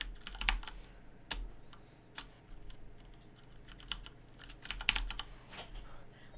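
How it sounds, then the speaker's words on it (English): Keys clatter on a computer keyboard in short irregular bursts, close by and fairly quiet, with brief pauses between words. "I just typed Spider."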